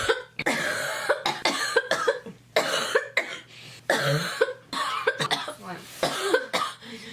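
Repeated harsh coughing fits, close and loud, come in bursts one after another, with a person talking between some of them.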